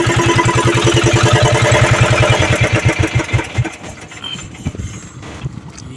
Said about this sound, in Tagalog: Patayin ko na yung makina.